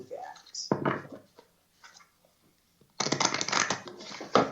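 Two bursts of tarot card shuffling, a short riffle then a longer rapid flutter, close up, with brief soft speech in the quiet gap.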